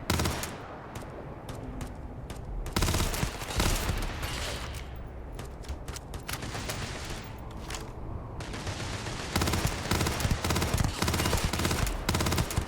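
Dense, continuous gunfire in the video game Starfield during a firefight with pirates, rapid automatic bursts and loud cracks layered almost nonstop with only brief lulls between volleys.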